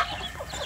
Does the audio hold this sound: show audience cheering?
no